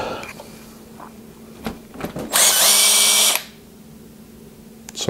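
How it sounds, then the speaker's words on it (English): A cordless impact driver from a handyman's tool kit fires one loud, whirring burst of about a second indoors, with a few clicks and knocks before and after. "Impact driver. 3 out of 4 on the battery. Still good."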